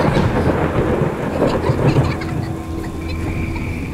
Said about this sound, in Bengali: হঠাৎ একটা বিকট আওয়াজ করে বাজ পড়ার শব্দ হলো